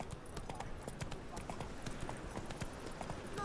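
Hooves of the horse Roach gallop in The Witcher 3 video game, a steady rapid clip-clop rhythm over dirt with a continuous rumbling ambience throughout.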